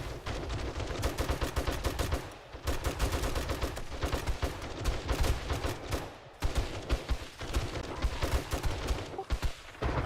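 Sustained automatic gunfire in the video game 7 Days to Die, dense and loud, with rapid shots packed into continuous bursts broken by two brief pauses, close and alone without talk.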